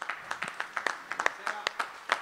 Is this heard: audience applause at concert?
yes